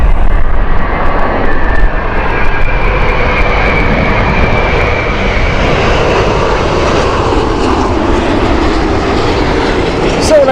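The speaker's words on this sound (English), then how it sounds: "330 Neo here. Friend of mine is on board this aircraft coming home." An Airbus A330neo airliner at Heathrow Airport roars loudly on a windy day, a continuous broad jet engine rumble with wind buffeting the microphone, steady and close throughout.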